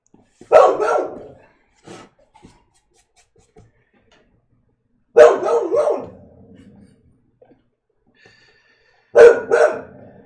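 A dog barks in short bursts, a few loud close barks at the start, middle and end, with near silence between them.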